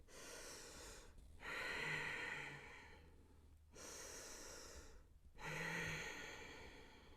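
Slow, deep breaths drawn in and let out during a yoga pose in a morning flow session, with three long, close, audible breath cycles and brief pauses between them.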